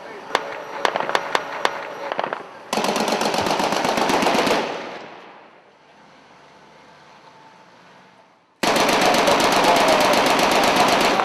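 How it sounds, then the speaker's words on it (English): Small arms fire in combat: a few sharp single shots, then long loud continuous bursts, a lull filled with low engine rumble, and another sustained burst close by. "At this location, we took a small arms fire, engaged it."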